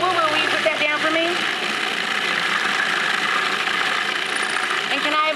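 An electric blender or food processor whirs loudly and steadily up close as it mixes pimento cheese with garlic and Worcestershire sauce, with a voice briefly heard at the start and end.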